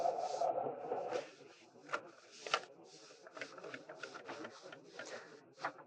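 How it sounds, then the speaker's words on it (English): Mechanical rubbing and clicking as an HP DesignJet large-format printer draws in paper, with irregular rasping strokes and a low whir, fairly close and moderately quiet. "it will automatically start feeding it inside the printer"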